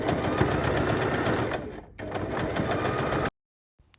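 A sewing machine stitches the panels of a sling bag in a fast, continuous run close up. It dips briefly partway through, resumes, then cuts off abruptly into near silence.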